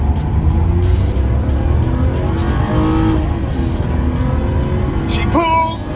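A 1958 Impala convertible lowrider rated at 250 horsepower accelerates hard with the AC on. The engine drones loudly and the revs climb steadily, ending in a sharp rising whine near the close.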